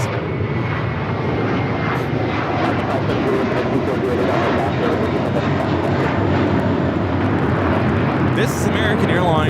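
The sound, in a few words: American Airlines Airbus A321 taking off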